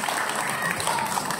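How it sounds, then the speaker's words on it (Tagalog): A church audience at a Catholic apologetics gathering breaks into steady, dense clapping, a brief unbroken wash of applause filling the room. "Palakpak mo."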